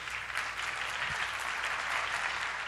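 Church congregation claps together in a dense, even burst of applause, short and loud, with no talk over it.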